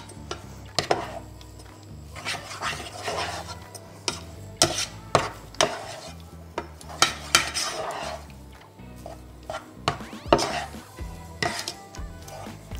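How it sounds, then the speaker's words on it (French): Spoon or spatula scraping and knocking against a metal pan as choux pastry panade is stirred and dried over low heat on a stovetop, with irregular clinks and scrapes throughout, close and fairly loud. "je vais mettre ma panade sur la plaque et en fait il faut la faire sécher un petit peu"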